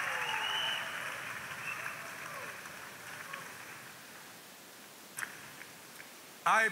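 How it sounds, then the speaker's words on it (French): Congregation at a church service applauding and cheering together, a broad wash of clapping that starts full and gradually thins and fades, with a few sharper bursts near the end. "Acclamez fort le Seigneur et asseyez-vous"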